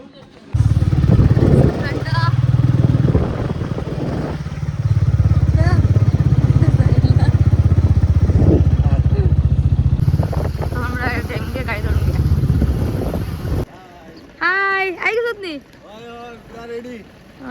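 A motorcycle engine runs and revs at close range, its steady drone rising and falling as the bike sets off, with people talking over it and clear speech near the end.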